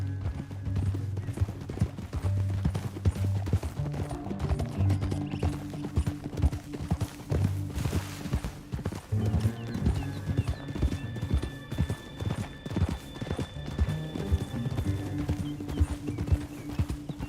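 Steady clip-clop of several horses trotting in the video game Red Dead Redemption 2, rhythmic hoofbeats with an occasional whinny over a music-like background.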